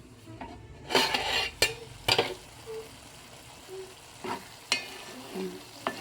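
Eggplant pieces frying in a pan for a prawn and eggplant curry, a soft sizzle broken by several loud scraping stirs and clinks of a spatula against the pan, close by with no talking.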